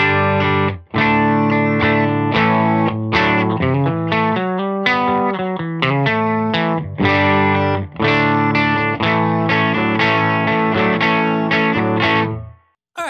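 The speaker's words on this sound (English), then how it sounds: "Silk Tone amp sounds like this." An electric guitar with Bluebird pickups plays through a Silk Tone amp, a clean, loud run of plucked chords and single notes ringing out alone with brief pauses between phrases.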